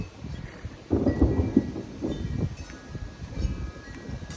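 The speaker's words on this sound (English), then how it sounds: "I'm okay with the thunderstorm." Thunder from a thunderstorm rolls through as a deep, fairly near rumble with several swelling bursts, over a bed of steady rain.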